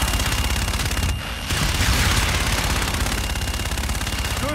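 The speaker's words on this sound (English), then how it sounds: "Inbound for gun run. Guns, guns, guns!" Aircraft gun-run gunfire fills a Call of Duty: Infinite Warfare battle as a dense, continuous roar of rapid shots, loud throughout, with only a brief dip partway through.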